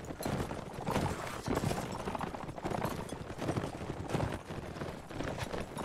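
Rapid hoofbeats of galloping horses in the video game Mount & Blade: Warband pound steadily amid a loud, busy mix of clashing noise, fairly close and continuous throughout.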